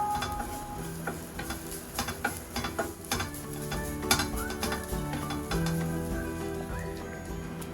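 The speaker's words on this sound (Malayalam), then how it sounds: "ഇനി ഇത് മീഡിയം ഫ്ലെയിമിൽ നന്നായിട്ട് മൂപ്പിക്കുക. കൈ വിടാതെ ഇളക്കിയെടുക്കണം." Grated coconut with a little coconut oil roasts in a pan over a medium flame for Kerala sambar, the spatula steadily scraping and clinking against the metal in an irregular, fairly close rhythm with a faint sizzle underneath.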